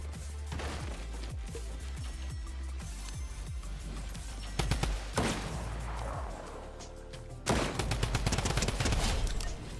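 Rapid drum gun bursts rattle in a Fortnite match, several fast fusillades of gunfire separated by short pauses, loud and close with busy game sounds around them.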